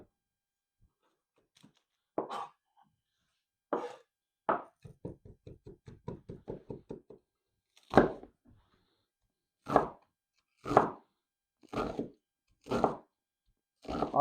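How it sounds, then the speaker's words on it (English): A knife chops onions on a cutting board in separate loud thunks, one quick burst of rapid chopping, then slow spaced strokes, close and in an otherwise quiet room. "I'm gonna chop these onions up"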